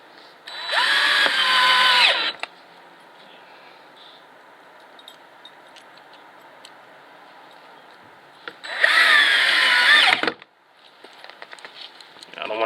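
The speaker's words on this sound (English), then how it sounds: "I'm going to use a drill gun" A cordless drill drives screws into a Keter plastic raised garden bed, with two loud bursts of motor whine about two seconds each separated by quiet handling noises and faint clicks.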